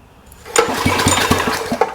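Small generator engine catches and starts after a spark connection repair, rising from quiet into a loud, close, sputtering run with pulsing firing beats.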